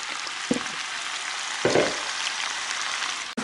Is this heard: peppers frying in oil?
yes